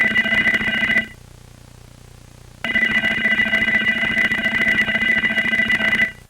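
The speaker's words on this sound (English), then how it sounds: "Oh hey, your doorbell is ringing." A doorbell in a horror movie rings with a buzzy, muffled tone, as if it were inside a clothes dryer. It sounds in two long sustained bursts separated by a short silent gap.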